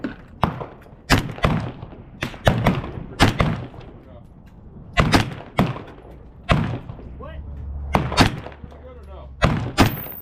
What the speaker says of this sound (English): we're gonna be firing off 5 shots with the sling method at the top left triangle